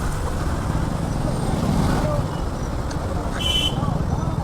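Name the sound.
heavy road traffic at Loni Kalbhor, Uruli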